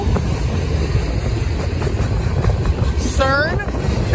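A BNSF freight train rumbles past close by in a steady, loud roar with wind buffeting the microphone, and a brief voice-like call rises near the end.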